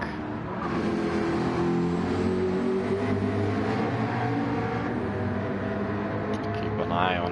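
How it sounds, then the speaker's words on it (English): In a Gran Turismo endurance race, a car engine drones steadily as a race car pulls out of the pit lane, rising slightly in pitch and heard at a moderate distance under a dense background. "I just heard another car leaving pit lane"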